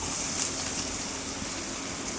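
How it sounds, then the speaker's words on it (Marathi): Heavy rain pours steadily outdoors as a dense, continuous hiss with no breaks, loud and close, with no voices heard over it. "मस्त असा पाऊस जोरदार चाललेला आहे."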